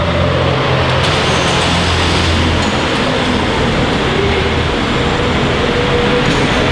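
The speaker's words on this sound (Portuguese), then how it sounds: "Vamos botar o carro para funcionar agora" A car engine starts up and runs at a steady, loud, broadband roar right after its universal lambda sensor has been replaced, with no talk over it.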